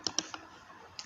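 Quick, close computer mouse clicks at a desk, two in rapid succession, then a fainter one and a last click after a short pause.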